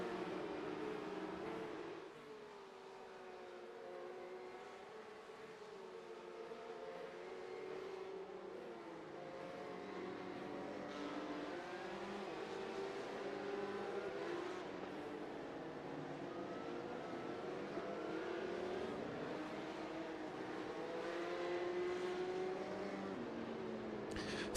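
A Porsche Cup race car engine in a racing video game at Mexico City screams steadily on a final lap, its pitch rising and falling through gear changes, with no talking.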